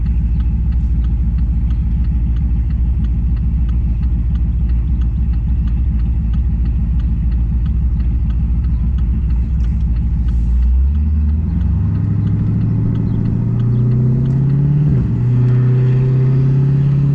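A stage 2 cammed Pontiac G8 GT V8 rumbles loudly and steadily while driving, a deep, choppy idle-like drone that shifts pitch and climbs in revs near the end, with no talk.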